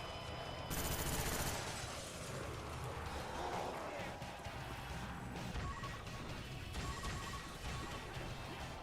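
Machine gun fire in a zombies video game, a dense clatter of rapid shots and crashing impacts at moderate loudness, carrying on through most of the stretch.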